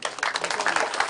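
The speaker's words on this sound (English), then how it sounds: "A round of applause" Dense, steady applause from an audience at a live event held in Kuje Prison, filling the room evenly throughout with no pause.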